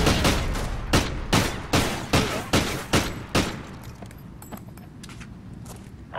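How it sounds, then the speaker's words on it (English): Pistol fire in a video game shooter, Search and Destroy mode: about nine sharp, evenly paced shots ring out close and loud, then fade to a faint rattle of distant scattered gunfire. "I hate using this fucking pistol."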